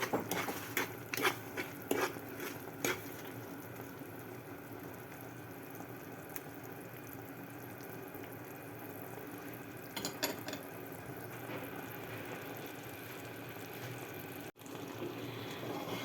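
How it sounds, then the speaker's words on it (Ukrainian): Blackcurrant jam boils in a frying pan as foam rises, with a steady soft bubbling and patter under occasional clicks and scrapes of stirring, close and fairly quiet, with no voices. "Ось так воно кипить, піднімається така піна."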